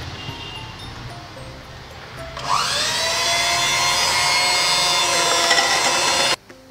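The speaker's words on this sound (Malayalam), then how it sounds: "ഇനി നമുക്ക് ഇത് മാറ്റി വെച്ചിട്ട് ക്രീം ഒന്ന് ബീറ്റ് ചെയ്തെടുക്കാം" An electric hand beater whirs into fresh cream in a bowl set over ice for tender coconut ice cream, switching on partway through with a sharp rising whine, then holding a loud, steady motor drone until it cuts off.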